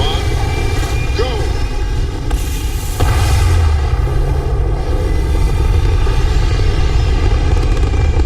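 A spaceship lifting off in the Starfield video game, a loud steady engine roar with a deep rumbling boom swelling partway through and holding to the end.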